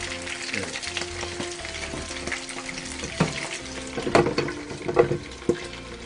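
Food sizzles and spatters steadily in hot oil, a constant close crackle with sharper pops and a few stirring clinks toward the end.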